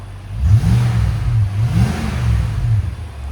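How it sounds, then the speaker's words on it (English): A Nissan Armada 5.6L V8 with its stock muffler cut off for an aftermarket exhaust, revved twice from idle, each blip swelling into a loud, deep roar before settling back, recorded close with no talking. "Go ahead and give it gas."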